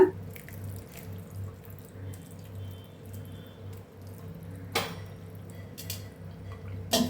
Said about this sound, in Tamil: மேலே வந்து பச்சை தண்ணி ஊற்றிக்கோங்க